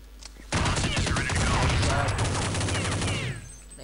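Dense automatic and rapid gunfire from a Counter-Strike: Condition Zero match erupts loudly after a brief pause and rattles continuously for about three seconds before fading, with faint game noise around it.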